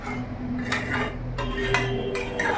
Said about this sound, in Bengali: এখন আমি ঢাকাটা দিয়ে দেবো।